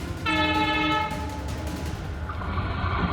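A train horn sounds loud and steady for about a second as an oncoming train nears a crossing in Tezpur, Assam, followed by the rumble of the train rolling along the railway tracks.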